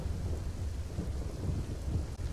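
Heavy downpour over Valsad city with thunder, a dense, loud roar of rain mixed with deep rumbling that fills the whole stretch without pause and with no voices.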